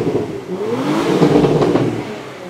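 A 2022 Porsche Macan S with its 2.9 V6 revs up loud and close, the engine note rising and holding with a rich, even growl for a couple of seconds before it eases off.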